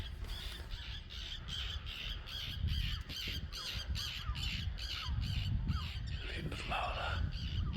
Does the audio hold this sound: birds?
yes